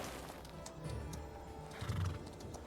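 A horse in the video game Chrono Odyssey gives a loud whinny while hooves clip-clop beneath it, over a faint game background with no speech.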